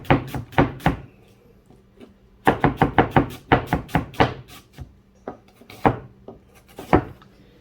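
A chef's knife chops rapidly on a wooden cutting board, its tip kept on the board, in quick bursts of close, crisp knocks separated by short pauses, with no talk.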